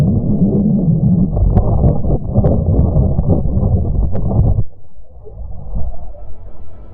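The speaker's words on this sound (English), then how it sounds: "That was the sound of the Earth's magnetic field as recorded by the Italian Spring Accelerometer on" Sonified recording of Earth's magnetic field from space, captured by the Italian Spring Accelerometer: rumbling, wind-like low hiss with occasional faint chirps and pops, steady for several seconds before thinning into a quieter, wavering drone.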